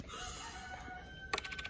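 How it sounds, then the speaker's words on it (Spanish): A rooster crows during a lotería card game, a faint drawn-out call over quiet background, followed by a brief cluster of sharp clicking taps. "El gallo."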